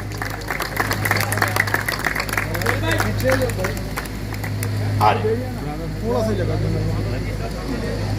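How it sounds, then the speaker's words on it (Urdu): An audience claps for a guest of honour at a shelter house inauguration attended by the Sindh governor, a dense round of applause mixed with a steady low hum and voices talking over it. "مقصود صاحب کے لیے تالیاں"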